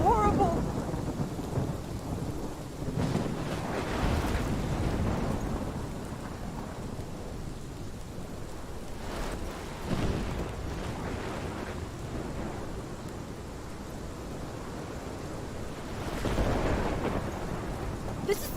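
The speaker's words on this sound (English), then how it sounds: "This is my storm." A heavy thunderstorm in the video game Life is Strange: steady dense rainfall with repeated deep rumbles and rolling thunder swells, loud and enveloping throughout.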